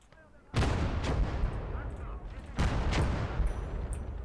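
Heavy gunfire in the World War II strategy game Call To Arms: Gates Of Hell, two loud booming shots with rumbling echoes over continuous distant battle noise.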